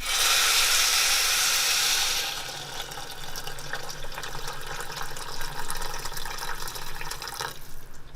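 Water pours in a strong rush into a hot pan of salmon for about two seconds, then drops to a softer, uneven trickle and splashing that continues before stopping.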